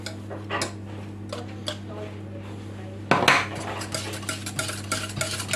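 A whisk or spoon scrapes and clinks steadily against a bowl while sugar is mixed into two egg yolks for a lemon meringue pie, with a quieter start and a louder, busier stretch of clattering stirring.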